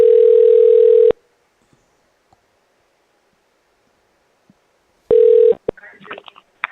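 A radio show phone line plays a loud, steady electronic call tone for about a second, falls silent, then repeats briefly before handset rustling and faint voices.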